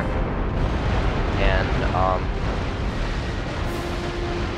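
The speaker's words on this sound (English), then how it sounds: "I just got that ship with a broadside" Ship broadside cannon fire from a naval battle in Empire: Total War, a continuous rumbling roar of distant booms under game ambience, with someone talking briefly over it.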